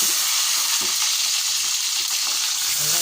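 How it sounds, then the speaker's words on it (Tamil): Onion and curry leaves sizzle steadily in a hot pan, a dense continuous frying hiss throughout with no talk. "வெங்காயம், கருவேப்பிலை, பூண்டு போட்டுட்டு மீன் போட்டு வதக்கணும்"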